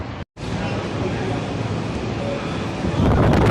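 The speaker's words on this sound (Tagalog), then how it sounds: "Sarap dito kasi guys mahangin." Steady outdoor wind rushes against the microphone, broad and continuous with a brief dropout near the start and gusting louder toward the end.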